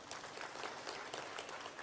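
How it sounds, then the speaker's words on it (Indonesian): Church congregation applauding, a faint but continuous wash of many hands clapping, heard at a distance with no voices standing out. "Tepuk tangan buat Tuhan."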